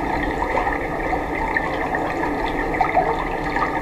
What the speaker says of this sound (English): the fox waded into the river